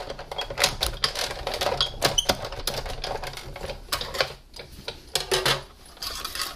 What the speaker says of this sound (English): then we're going to run it through the Big Shot